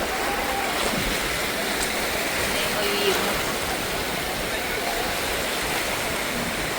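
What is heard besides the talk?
sea waves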